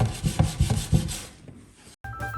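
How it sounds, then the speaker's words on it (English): Rhythmic back-and-forth rasping as a sanding screen is rubbed over an old wooden cabinet, about five quick close strokes that fade out, then a short resumed scrape. "The sanding screen seemed to give me good results on the lower cabinets"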